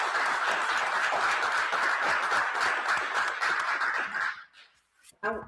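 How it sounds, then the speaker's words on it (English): An audience at a courthouse news conference gives a steady round of applause, a dense, moderately loud wash of clapping that holds for about four seconds, then cuts off into near silence before a voice begins to speak. "So let's show them all a huge round of applause."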